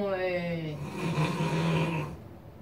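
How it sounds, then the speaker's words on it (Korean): A child snoring with a closed, obstructed airway: one long, rough, rasping snore of about two seconds, close and fairly loud, with a throaty, voiced tone at its start. "이거는 다친 코골이 소리예요."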